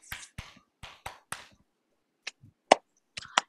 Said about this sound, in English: and they clapped it back